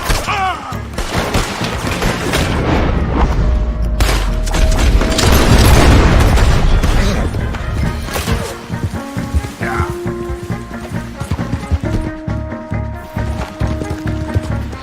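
Gunfire erupts in a Red Dead Redemption 2 shootout, loud booming shots and bursts layered over a dense game soundscape, with a chaotic peak of blasts midway and scattered reports and tonal game sounds afterward.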